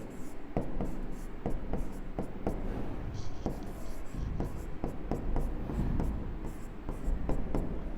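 Chalk or marker strokes on a board as an indifference curve is written out during an economics lesson, a steady series of short scratchy taps and rubs, close and fairly loud with no talk.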